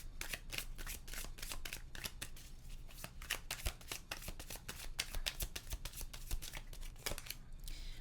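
Tarot cards shuffled steadily by hand, a continuous close rhythm of crisp riffling flicks and papery slides for the whole stretch, with no talking.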